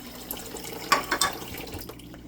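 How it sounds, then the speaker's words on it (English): A brief splash and trickle of half a cup of water poured into a measuring cup, with a few small gurgles against faint room noise. "I'm going to put half a cup of water here"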